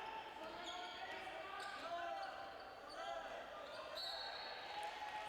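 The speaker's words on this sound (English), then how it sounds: "dribbling to the left, terminates the dribble" A basketball is dribbled on the court during a men's college game, Ohlone versus Chabot, with bounces blending into a steady wash of crowd noise and chatter in a reverberant gym.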